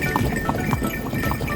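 Brief, steady clip-clop of horse hooves on smooth pavement at Borobudur Temple, evenly spaced knocks over a low rolling rumble.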